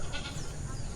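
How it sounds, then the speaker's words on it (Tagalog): Native sheep and goats on a farm bleat at close range, with a short call rising over steady low rumble and background noise, brief and fairly loud. "Ang nakagala lang po dyan, mga native sheep, goats"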